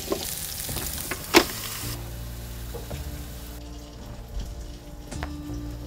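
Bacon sizzling and frying in a pan for breakfast bacon sandwiches, made with freshly baked rolls aboard a sailing catamaran; a steady close crackle with a few sharp pops and light stirring clatter, no talk.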